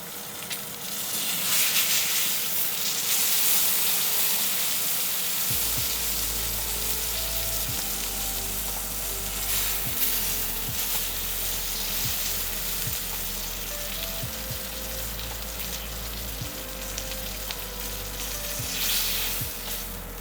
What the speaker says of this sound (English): Now let's just see if we can sear the sides a little bit.